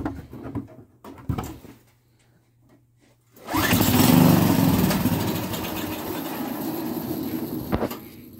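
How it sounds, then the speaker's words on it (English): Go-kart engine starting up after a quiet, sparse stretch, then a loud sustained roar that holds steady under throttle and wavers slightly before easing, alone with no voices. "Give her some throttle."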